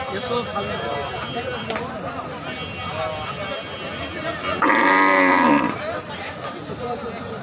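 Cattle at a crowded livestock market, with a loud close moo rising over steady crowd chatter and people talking nearby.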